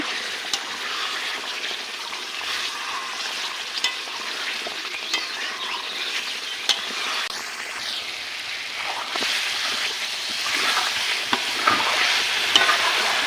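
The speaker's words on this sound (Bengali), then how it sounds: "এখন এভাবে কিছু সময় নেড়ে চেড়ে মাংস কষিয়ে নিব।" Goat meat fries in a pan with a steady crackling sizzle as it is stirred and turned, punctuated by occasional scrapes, and the sizzle grows slightly louder toward the end.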